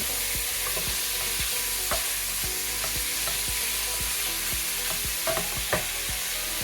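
Fat renders in hot oil or lard in a pan for haluski, a dense constant sizzle with scattered pops and crackles close by, with no voices.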